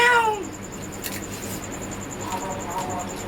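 A cat gives a short, close meow with a falling pitch right at the start, followed by a quieter stretch of faint household background noise and a few soft scattered sounds.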